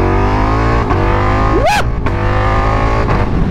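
A Ducati motorcycle with its stock exhaust idles with a loud, deep rumble, then revs in one quick rising and falling blip before settling back to a steady idle, close by and without speech.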